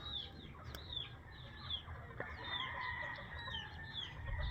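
Chickens cluck and call at a distance in a steady, busy chorus over low background rumble, with no voices.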